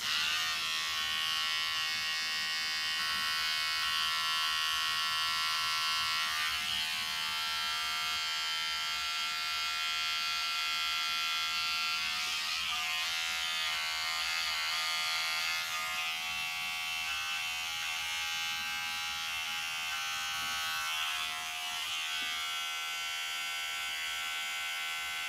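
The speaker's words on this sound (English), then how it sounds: "Let's grab the trimmer to straighten up the little landing strip right here." Electric beard trimmer buzzing continuously and close while trimming a beard, a steady high whine with slight changes in pitch and tone as it moves over the hair.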